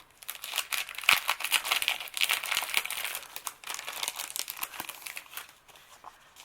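Thin paper, including a transparency sheet, crinkled and rustled by hand while a craft subscription box is unboxed. The crackling is close, steady and continuous, with sharper crunches throughout and no talking.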